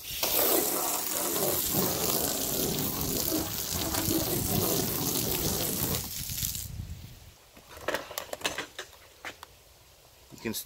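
A water spray rinses soap foam off a car being washed, a steady hissing gush for about six seconds that then cuts off, leaving scattered drips and light knocks.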